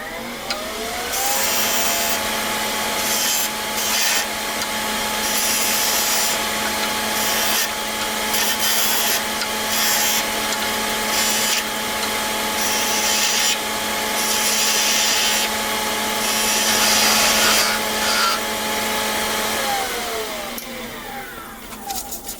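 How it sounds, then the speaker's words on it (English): A skew chisel rounds over the edge of a wooden surfcasting lure spinning on a lathe, giving a continuous motor hum and a rough, steady scraping of wood that holds for about twenty seconds without pause. "now I'm going to use the skew chisel to just round over the edge here"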